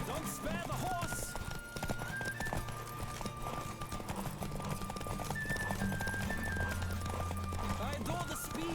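Hooves clip-clop in a fast galloping rhythm, with a horse whinnying, in the video game The Witcher 3. Music plays and voices talk over it.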